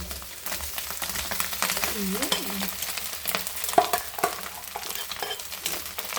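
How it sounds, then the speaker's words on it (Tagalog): Leftover rice is stir-fried in a pan for fried rice, with a constant sizzle and repeated scraping and stirring strokes from a spatula, fairly close and steady throughout. "Gusto ko gisahin ko muna yung aking kanin bago ko isauli ulit sa rice cooker"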